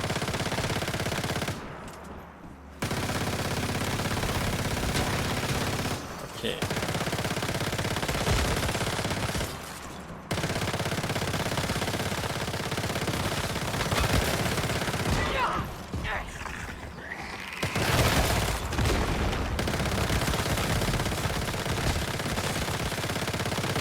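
An ice gun in the survival game Once Human fires continuously in long sustained streams, loud and near, broken by a few brief pauses, with a voice talking faintly underneath.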